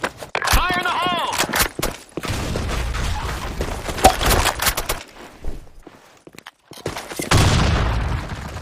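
A grenade detonates in the video game Sand Storm, a loud booming blast among bursts of gunfire and sharp impacts, with a second heavy explosion near the end; a voice calls out briefly at the start.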